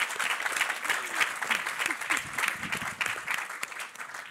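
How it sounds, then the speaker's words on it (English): An audience at a fireside panel claps and applauds steadily throughout, a dense crowd of hands at moderate distance. "A round of applause."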